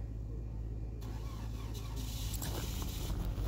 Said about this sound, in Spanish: Eso se usa para prender el carro desde adentro de la casa 5 o 10 minutos antes y que el carro se caliente